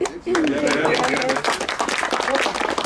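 Audience applause at a municipal tennis tournament, a dense burst of clapping under an announcer's voice, steady and moderately loud for a few seconds.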